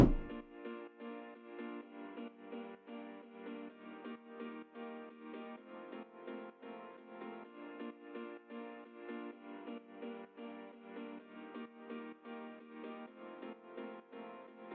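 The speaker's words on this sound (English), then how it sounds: "Next we have piano chords, which add warmth and natural character" Warm piano chords for a progressive house track ring out in a steady, sustained rhythm, filling the midrange at moderate level with no voices present.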